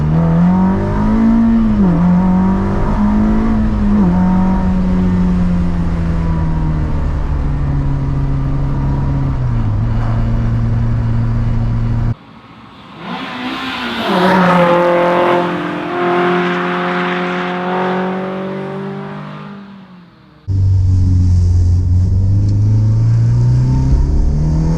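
Ferrari-engined Alfa Romeo 105 driving hard: a loud, close engine rises through sustained revs, drops briefly between shifts, then climbs again, with a throaty tone throughout and no talking.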